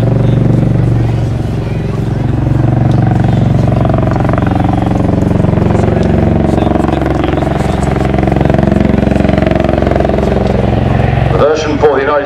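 An MV-22B Osprey tiltrotor flies at the Farnborough Airshow with a loud, continuous rotor and engine drone. The throbbing roar stays steady for the whole stretch, with crowd or commentary voices mixed in underneath.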